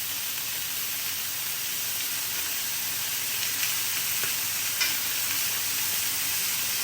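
Butter melting and sizzling in a hot pan beside a steak, a steady dense crackling hiss with a few faint utensil taps.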